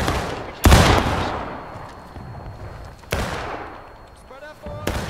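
Musket volleys in a Civil War skirmish video game at Dunker Church, a few sharp loud cracks spaced seconds apart, each trailing off in a long echoing rumble, with faint talk between.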